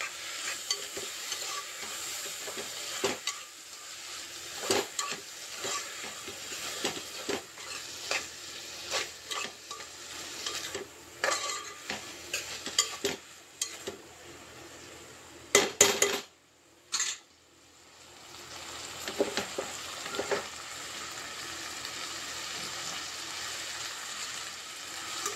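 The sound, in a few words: boiled broad bean seeds being stir-fried in a pan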